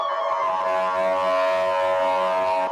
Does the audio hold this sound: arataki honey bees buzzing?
no